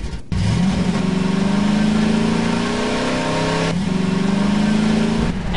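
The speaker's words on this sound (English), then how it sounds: "I think it's really fun to play with the Jeep. I'll give you a demonstration of the Jeep." Jeep engine in the Garry's Mod video game revving up and driving, a steady loud mid-pitched drone with rising harmonic sweeps as it accelerates, briefly dipping near four seconds before climbing again, with no talking over it.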